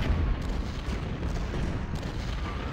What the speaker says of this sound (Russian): Пушки наши начали.